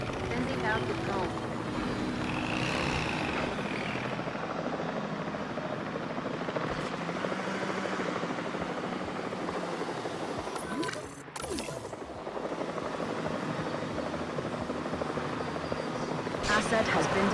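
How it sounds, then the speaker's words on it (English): Drone flying in the video game Jurassic World Evolution 3, a steady rotor-like whirring hum that persists throughout, with voices talking over it. "Sending out the drone."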